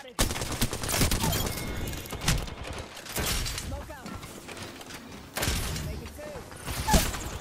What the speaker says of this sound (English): Thank you for the cover fire, Adam.